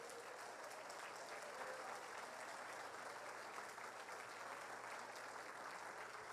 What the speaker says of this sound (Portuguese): Você pode dar sua melhor salva de palmas para Jesus?